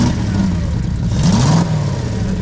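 Ford Mustang engine revving hard during a burnout, a loud continuous mid-pitched roar with pitch rising and falling as the throttle is worked, close by and steady throughout.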